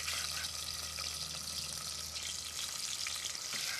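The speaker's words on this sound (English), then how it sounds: "As soon as you've got onions frying, you've got a delicious smell" Onions fry in about three tablespoons of olive oil inside a thermal cooker pot, a steady close crackling sizzle that holds even and unbroken with no talk.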